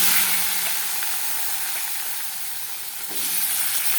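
Eggplant pieces with black cumin and turmeric and salt sizzle in a hot frying pan, a steady close hiss that eases slightly midway and then surges again near the end, with no talking.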